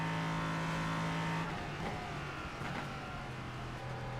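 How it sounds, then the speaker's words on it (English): V8 race car engine in iRacing, a steady loud thundering drone that shifts tone midway as revs change, heard alone without talk. "I just love a good thundering V8."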